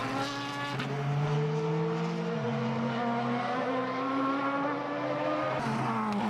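Single-seater Formula BOSS race cars lapping Mondello in Ireland, a loud, close engine howl that rises and falls through gear changes as the cars pass, sounding continuously and alone.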